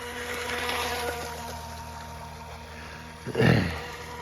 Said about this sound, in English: The JetStepper single-stepped hydroplane.